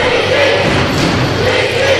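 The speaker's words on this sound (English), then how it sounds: "Got the elementary kids all clapping and stomping, cheering their teammate on." Elementary schoolkids at a school wrestling match clap, stomp and cheer for a teammate, a steady dense crowd roar with thumping feet, fairly close and loud throughout.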